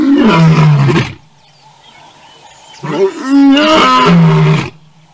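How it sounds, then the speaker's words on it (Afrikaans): A recorded lion roar is played back during an Afrikaans church service: two long, loud, deep roars with a quiet pause between them, each swelling and then trailing off. "hy gaan vir ons 'n leeuetjie speel"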